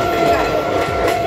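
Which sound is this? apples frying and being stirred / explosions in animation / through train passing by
through train passing by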